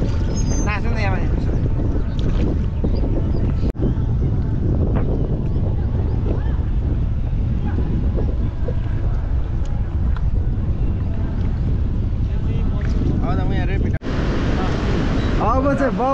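Tamor river rapids roar continuously around a raft, with churning water and wind buffeting the microphone throughout. Voices call out over the rushing water.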